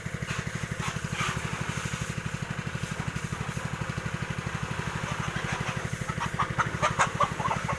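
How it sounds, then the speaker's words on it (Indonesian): Chickens cluck steadily in the yard behind a rural house next to rice fields, near a low, even, rhythmic engine-like drone that runs throughout; the clucking grows livelier toward the end, with no talking. "Ramai ayam."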